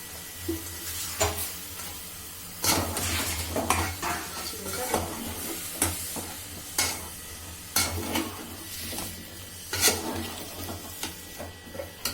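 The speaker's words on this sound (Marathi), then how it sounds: "हे आता चांगल्याने मिक्स करून घ्यायची आहे आलू वांगा" A spoon scrapes and stirs potato and eggplant bhaji in a pan, with irregular clinks and scrapes against the metal over a soft, steady sizzle, close and without talk.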